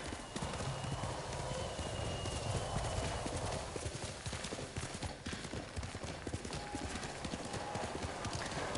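A horse gallops with steady rapid hoofbeats in the video game Ghost of Tsushima, a continuous clip-clop rhythm under a dense, noisy background that runs the whole time.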